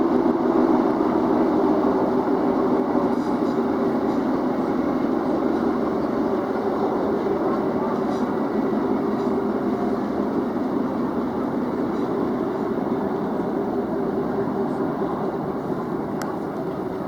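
A train rolls along the Glasgow and South Western Railway, a steady loud rumble of wheels and carriage noise that holds throughout with no break.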